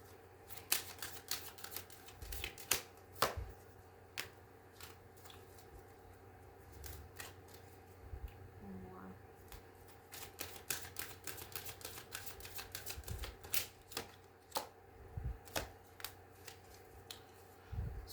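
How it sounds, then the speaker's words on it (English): Angel cards are shuffled and handled for about eighteen seconds, giving quiet, irregular flicks and taps close by against a low background hum. "pull a couple of angel cards"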